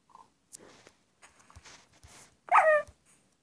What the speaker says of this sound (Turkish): Köpek vuracağım.